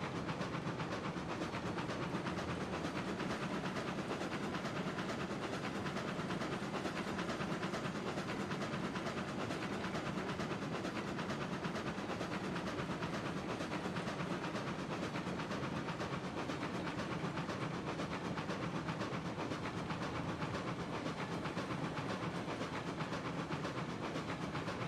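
A locomotive rolling along rebuilt track in the train game Railroads Online, a steady unbroken rumble and hiss of wheels and steam, loud and constant throughout with no talking.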